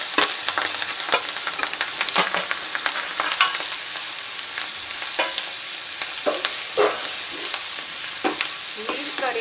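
Green chillies and spices, including mustard seeds, cumin, asafoetida and turmeric, fry in hot oil for a Kathiyawadi chilli relish, with a constant close sizzle broken by sharp crackles and spoon stirring scrapes.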